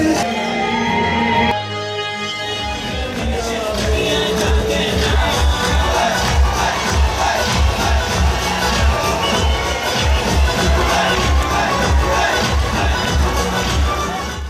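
Large crowd gathered at the India-Pakistan border for a military parade, a steady dense murmur of many voices with shuffling and occasional cheers, loud and continuous throughout.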